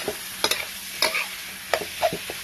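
Minced pork is stir-fried for Thai pad kaphrao, a moderate sizzle punctuated by sharp spatula clacks and scrapes in quick bursts, close and without talking.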